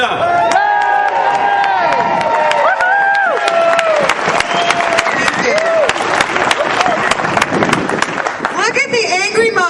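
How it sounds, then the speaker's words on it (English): An outdoor rally crowd applauds and cheers for Representative Doreen Costa, with dense clapping, whoops and shouted voices all mixed together and staying loud and sustained throughout. "Let's have a big round of applause"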